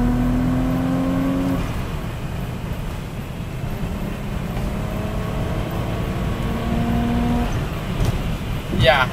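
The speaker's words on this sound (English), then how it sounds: "third gear pull" A Saab 9-3 Turbo X fitted with a Mamba bypass valve pulls hard in third gear, its engine drone rising steadily in pitch under a loud, continuous roar, with a brief sharp sweep near the end.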